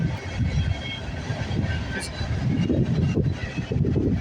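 A long freight train rolls past at Milton, Ontario, a loud, close, continuous low rumble with rattling wagons and wheel noise throughout.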